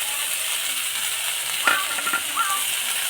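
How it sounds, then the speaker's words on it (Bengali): Green chillies and chickpea greens sizzle in hot oil in a wok, a steady, bright frying hiss throughout with a few brief clinks and stirs of a utensil partway through, close and fairly loud. "কাঁচামরিচ, ছোলার শাক দিলাম কড়াতে"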